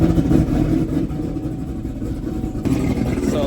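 A Chevrolet C7 Corvette Z06 with a BTR cam running, a loud steady low engine rumble close by with a slight shift in tone partway through.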